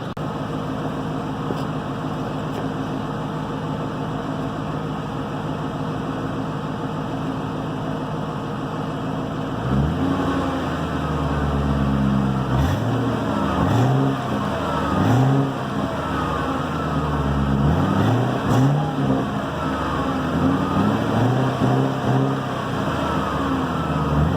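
2001 Mercury Grand Marquis GS engine at idle, then revved several times in short bursts that rise and fall, a deep, loud, close throaty sound with a steady rumble between revs.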